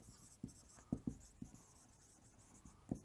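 A pen writes an accounting entry on paper, making soft, close scratching strokes with a few firmer taps at uneven intervals, quiet and without speech.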